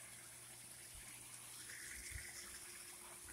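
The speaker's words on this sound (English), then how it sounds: "The waterfall looks great." Steady rushing and splashing of a pond waterfall, continuous and moderately close, with no voices.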